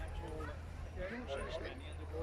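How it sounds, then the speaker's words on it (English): Several dogs yap and bark at a distance at an agricultural show with tractors, faint and scattered, beneath a steady low rumble and background voices. "A few dogs under there."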